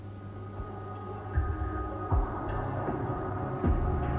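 Crickets on an insect farm chirp steadily in a dense, shrill pulsing chorus, with soft low knocks and rustles of handling underneath.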